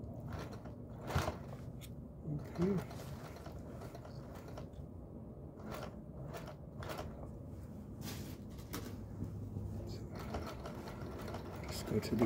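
A Singer 431G sewing machine fitted with a low-voltage motor stitches through denim near a seam, its mechanical whir and clatter running steadily under a speaking voice, with a few louder knocks along the way.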